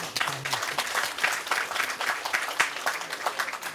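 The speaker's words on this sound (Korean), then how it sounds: "감사의 박수 한번 치면서" Applause from an audience at a provincial governor's on-site meeting in Uiseong County, a steady patter of hand claps held at a moderate level for several seconds, with a brief voice heard near the start.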